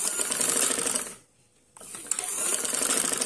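Sewing machine stitching a border strip for a sleeve, daman and dupatta design, running steady and close with a dense mechanical whir, briefly pausing near the middle before resuming at full speed.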